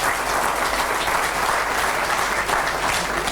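Crowd at a municipal New Year's greetings event in Pleumeleuc gives sustained applause to a person being honored, thick steady clapping from many hands, loud and unbroken for the whole stretch.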